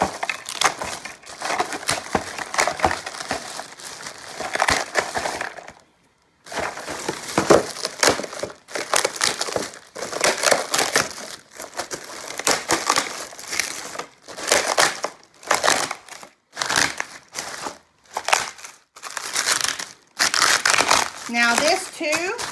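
Crisp fried pork skins (chicharrón) crushed into smaller pieces, bursts of loud crunching and crinkling close by, pausing briefly and resuming over the length of the clip.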